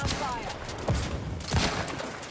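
Gunfire cracks out in The Outer Worlds 2, several close, punchy shots punctuating a dense, continuous wash of battle noise.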